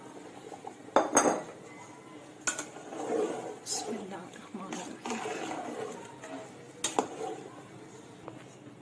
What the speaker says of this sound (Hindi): यखनी को उबाल आ चुका है, अब मैं इसमें राइस ऐड कर रही हूँ।